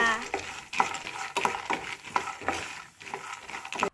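Peanuts and pistachios sizzle in a pan while being stirred for dry fruit laddu, making repeated scraping, rustling strokes in an uneven rhythm, close and moderately loud, with no talking.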